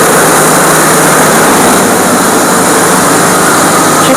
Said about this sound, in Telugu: షిఫ్టర్ మనకు నూకలు పరము అన్ని సప్లై చేస్తుంది.